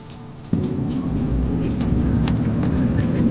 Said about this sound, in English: as it picked up the speed, the engine sound grew louder